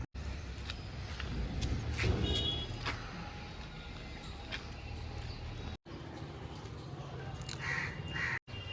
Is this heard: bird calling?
yes